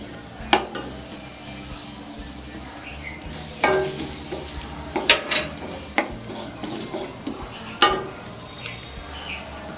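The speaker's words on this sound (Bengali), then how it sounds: "জিরেটা লাল লাল হয়ে আসে, এতে দিয়ে দেবো আমি সামান্য হিং" Cumin seeds and asafoetida fry in oil with a steady, gentle sizzle, broken by several sharp scrapes and clinks of a spoon stirring against the pan.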